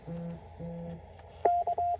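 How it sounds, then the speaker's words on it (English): Two short, low buzzing pulses of a phone vibrating, close up, followed by a quick series of higher electronic beeps. "So what you're hearing is my phone vibrating."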